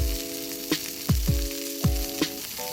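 Gentle sizzle of food frying in butter with a soft crackle, punctuated by several sharp clinks and taps of a utensil against a pan, plus a faint tonal hum.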